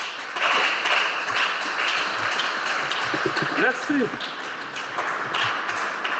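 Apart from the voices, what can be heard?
congregation applauding in church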